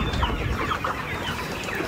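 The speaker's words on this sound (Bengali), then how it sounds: "চারিদিকটা একদম ভরে গেছে মুরগিতে" Chickens in a full poultry farm cluck continuously in a dense, close flock chorus with no talk.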